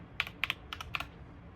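A short burst of typing on a computer keyboard, about eight crisp key clicks in quick uneven pairs, close and fairly quiet.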